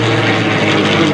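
Messerschmitt Bf 109 WWII fighter flying at an airshow, its piston engine giving a loud, steady propeller drone that holds unbroken throughout with no speech.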